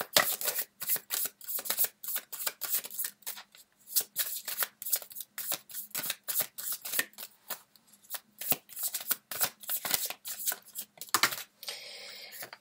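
Tarot cards are shuffled and drawn by hand, giving rapid rhythmic riffling bursts with brief pauses between, close and fairly quiet, with no talking.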